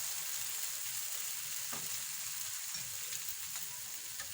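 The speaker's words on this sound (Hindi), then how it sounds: "इनको हम फ्राई कर लेंगे।" Egg-dipped bread sizzling steadily in a hot pan for sweet toast, a continuous bright frying hiss with faint crackles and no voices.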